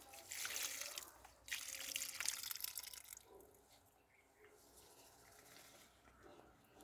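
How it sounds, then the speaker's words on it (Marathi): A curd mixture is poured onto loosened soil around the roots of a curry leaf plant, making faint liquid splashing and trickling in two short bursts, followed by quieter dripping with light background noise. "त्याच्या मुळाशी आपल्याला हे ओतायचं आहे मिश्रणचं दह्याचं"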